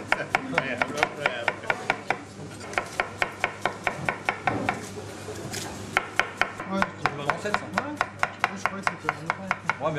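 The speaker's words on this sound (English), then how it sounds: "I admired his onion chopping technique." A chef's knife chops onions on a board in a busy professional kitchen, a quick, steady run of sharp, close taps with a brief pause midway and faint background clatter.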